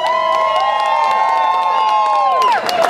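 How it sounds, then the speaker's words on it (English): A street-fair crowd rallying for immigration reform cheers its organizers, with a long, sustained high whoop over scattered clapping that swells again at the end. "Y'all gotta give a louder round of applause for organizers than that"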